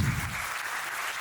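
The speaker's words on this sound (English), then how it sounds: "So I would like to request you all to kindly give her a big round of applause." Audience clapping at a school Ganesh Chaturthi celebration in Jodhpur, a steady close wash of applause filling the whole short moment without talk.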